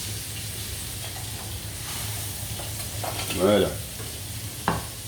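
Sole fillets fry steadily in butter in a pan, giving a continuous close sizzle with a brief stirring scrape partway through and one short spoken word.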